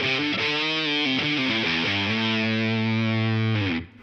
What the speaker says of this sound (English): a really saturated, distorted guitar sound